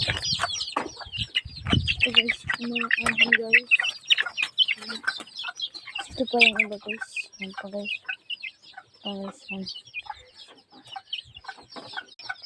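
Several chickens cluck and chatter close by, with someone talking casually over the flock.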